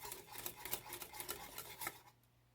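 A whisk stirs thickening lemon curd in a bowl, quick rhythmic scraping and tapping strokes, close and faint, for about two seconds before stopping.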